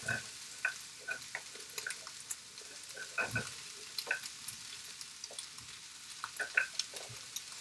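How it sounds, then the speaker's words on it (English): Onions and peppers sizzle and crackle in a hot pan for breakfast tacos, a close, steady frying hiss with scattered sharp pops and stirring scrapes. "So just add some of those onions in there. And some of these peppers."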